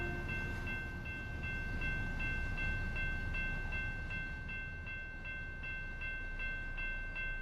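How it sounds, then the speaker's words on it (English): A train passes a road crossing in American Truck Simulator, with a steady low rumble of rolling cars and a crossing bell ringing in an even, repeating pattern throughout. "do I hear a train?"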